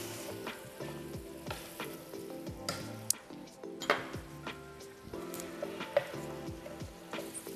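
Bulgur pilaf sizzles steadily as it fries in butter in a pan. Stirring scrapes run through it, with a few sharp clinks of a utensil against the pot, close and continuous.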